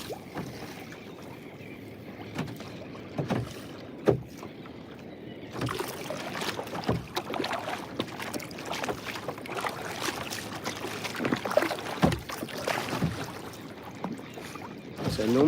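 Fishing kayak paddled out to sea, with faint, steady splashes and swishes of the paddle dipping into water, occasional knocks against the hull, and light wind noise, no talk.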